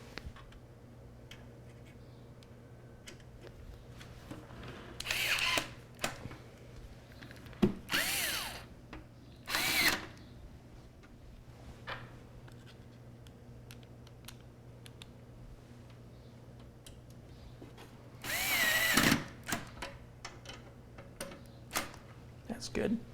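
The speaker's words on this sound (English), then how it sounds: "we can secure it back into position with the screws we just took out." A screwdriver driving screws to secure a part back in place during a PC build, heard as several short, close bursts of rapid whirring and clicking separated by quieter pauses, with occasional soft handling sounds.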